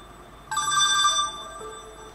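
A telephone rings once, a bright electronic trill starting abruptly and fading away after about a second, heard alone over quiet background.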